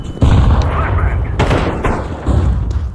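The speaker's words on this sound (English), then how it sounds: "Why are you throwing a flashbang?" A flashbang grenade detonating in Counter-Strike 2, a sharp loud blast at the start followed by further gunfire-like bangs amid busy game noise, with people talking over it.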